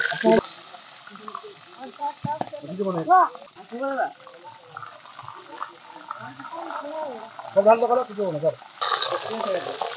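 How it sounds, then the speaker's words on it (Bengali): Chicken frying in hot oil, a continuous sizzle with bubbling bursts, heard under a person talking throughout. "চিকেন নতুন পদ্ধতি শুরু করার জন্য চিকেনটা ফার্স্টে ভাজিয়ে দেবো আমরা।"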